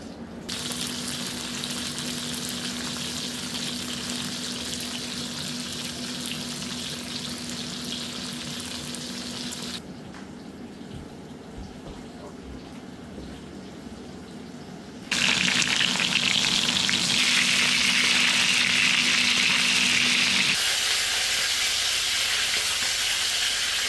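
Wild duck pieces fry in oil in a wok with a steady, loud sizzle that drops quieter partway through, then surges back louder and hissier before settling; no talking.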